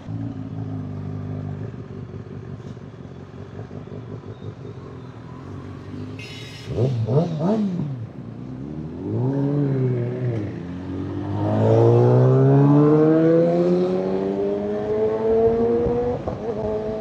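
Superbike with an oversized custom part revs hard on an empty city road in Hyderabad, rising engine harmonics sweeping up through repeated throttle blips and a long loud climb, close and dominant with no talk.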